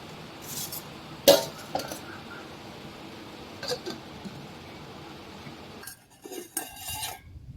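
A metal spoon works watermelon paste through a sieve, giving a few sharp clinks and scrapes, one louder strike near the start, over a quiet, steady kitchen background with no talking.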